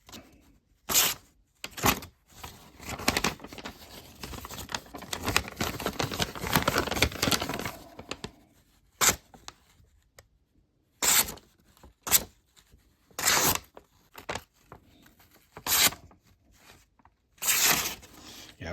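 An Odenwolf W2 knife slicing through paper, a series of short crisp cutting swipes, with one longer rustling stretch in the middle and several quick separate strokes after it, close and fairly loud.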